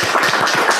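An audience claps at a candidates' forum for the ITB alumni association chair, a brief dense burst of applause heard up close.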